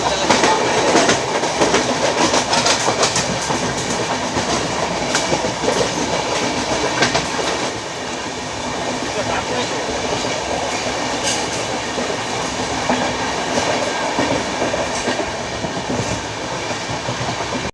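A passenger train rolls along a line in West Bengal between stations near Bardhaman, giving a steady, continuous rumble with faint rhythmic clatter of wheels on the rails and no talking.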